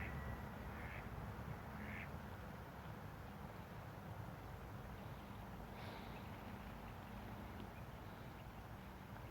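Ducks quack in a few short bursts on a lake in a German park, over a steady broadband wash of water and wind, outdoors with no talking.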